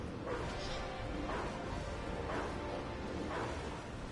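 A dog in the video game DC Universe Online barks repeatedly, about once a second in a steady rhythm, moderately loud over a busy game background.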